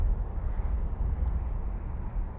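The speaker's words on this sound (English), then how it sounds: "apart from the road noise you can hear behind me in the distance" A low, steady rumble of distant road traffic drones on without a break, faint and far off.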